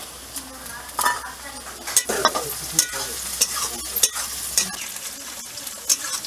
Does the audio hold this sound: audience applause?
no